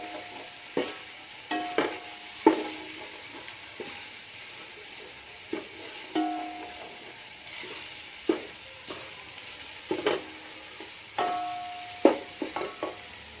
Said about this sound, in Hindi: प्याज को हमने थोड़ा ब्राउन करना है, ताकि ये ब्राउन हो जाए।